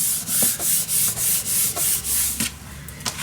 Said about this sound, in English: Burnish your glue down, make sure your glue is everywhere